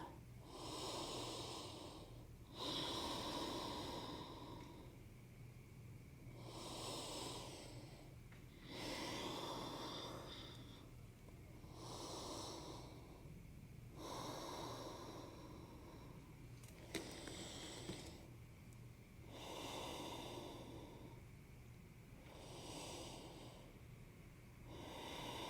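Deep, slow breathing during a supported pregnancy yoga squat at 33 weeks, about ten steady rounds of long inhales and exhales repeating every couple of seconds, close and moderately loud, with no talking.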